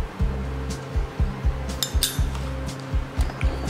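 A spoon clinks repeatedly against a bowl while turmeric, honey and milk are mixed, giving a quick irregular run of close, sharp taps with no talking.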